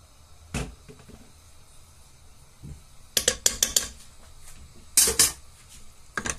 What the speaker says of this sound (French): Donc là, on va ajouter maintenant du double concentré de tomate